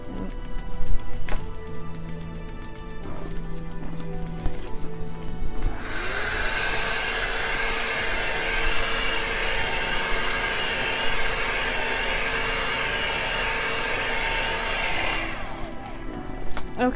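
A hair dryer blows heat onto acrylic paint in a flip-cup pour. Its loud, steady whooshing roar starts after a few quiet seconds, runs for about nine seconds close by, then cuts off.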